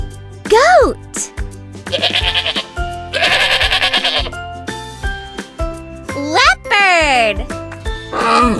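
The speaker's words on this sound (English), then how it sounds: "Goat." A goat bleats several times in loud, quavering cries, some rising and some falling, over light, jingling children's music.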